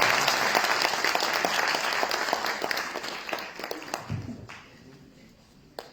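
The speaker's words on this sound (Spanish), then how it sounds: "Nuevamente un fuerte voto de aplauso para Rafael Bautista Segales en esta mañana." Audience applause at a book presentation at a university in El Alto, Bolivia: dense, steady clapping from a room full of people that gradually thins and fades, ending in a few scattered claps.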